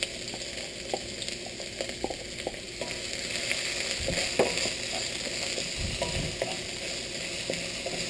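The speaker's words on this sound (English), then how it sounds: "Let's wait until the onion is translucent." Onion fries in a pan with a constant hissing sizzle that runs the whole length. Scattered scraping and clicking from stirring rise out of the hiss, close and at moderate loudness, with no voices.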